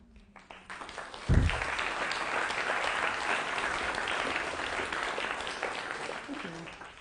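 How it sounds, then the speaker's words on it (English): Audience applause following a poetry reading at a fall diversity keynote event, a dense sustained clapping from a large crowd that swells quickly, holds steady and begins to fade near the end. "Thanks for clapping."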